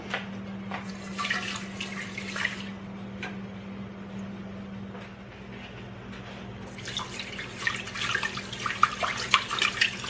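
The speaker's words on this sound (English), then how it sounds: "we need to wash the rice really, really well" Cold running water from a tap splashes steadily over rice being washed, with occasional drips and clinks, a low hum underneath, the flow growing busier toward the end.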